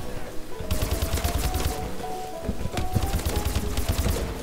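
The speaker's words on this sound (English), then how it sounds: "What are you doing trying to shoot a grenade at me?" Rapid bursts of gunfire and a grenade launcher being fired in a multiplayer shooter match, loud and close, with dense crackling volleys that stop briefly and then start again, and no talk over them.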